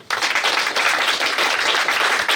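Loud, dense audience applause fills the room, a steady roar of many hands clapping together throughout, with no talking over it.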